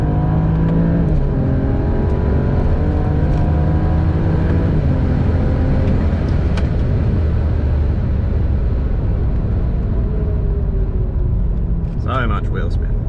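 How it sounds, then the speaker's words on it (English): A modified BMW N54 car with a 17T turbo build accelerates hard with wheel spin: a loud, sustained engine roar that rises in pitch over several gears, with voices talking and exclaiming over it. "So much wheel spin."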